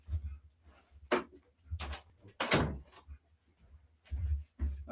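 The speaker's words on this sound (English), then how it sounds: "I'm going to close the door." A door is shut, heard as several dull thumps and bumps spread unevenly across a few seconds, moderately close in a quiet room, with no voices over it.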